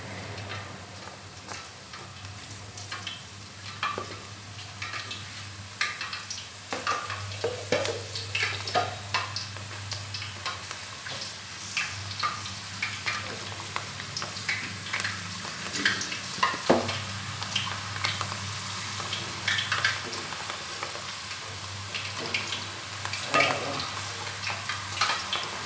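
Yam (jimikand) frying in a pan for a dhaba-style Punjabi mixed vegetable dish, a steady sizzle with scattered clicks and scrapes of stirring throughout, fairly close and alone with no talk.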